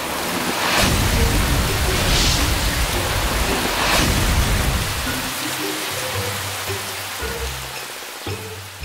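Steady rain hisses loudly for several seconds, then thins out, leaving a quieter background with a few low tonal sounds near the end.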